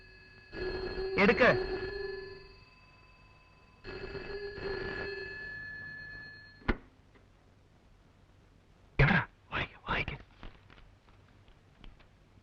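A telephone rings in a film scene, two long electronic ring bursts a couple of seconds apart, followed by a click and brief sharp knocks as voices break in.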